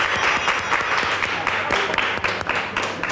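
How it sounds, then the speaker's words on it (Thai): Applause from an audience at a live fan event welcoming a guest, a dense steady patter of clapping that stays loud and even throughout, with no speech over it. "ทุกคนปรบมือให้เป็นกำลังใจน้องวิน"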